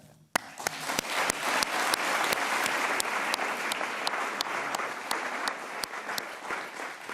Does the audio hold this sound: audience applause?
yes